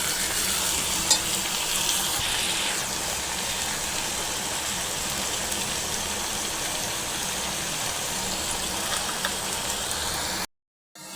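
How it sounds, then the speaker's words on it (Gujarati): Green cowpeas (lili choli) sizzle and fry in a pan while being stirred, a close, dense, steady crackle that runs evenly throughout before cutting off abruptly at the very end. "હવે તેને હલાવીને મિક્સ કરી લઈશું આપણે। હવે આપણે સોળીને સડવા દઈશું।"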